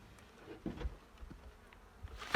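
Faint buzzing of honey bees at a hive drifts close and away, with soft bumps and rustles around it and a brief louder knock at the very end.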